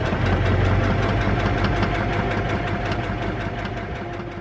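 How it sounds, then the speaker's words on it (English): Sewing machine stitching a fitted fabric face mask slowly around a curve, a close, steady mechanical whir with a rapid rhythmic needle chatter running throughout, no talking. "just take it slow and sew as close as you can around the curve"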